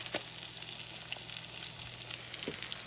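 Tuna patties fry in butter and oil in a pan, giving a steady soft sizzle with a few faint clicks of a spatula as they are flipped.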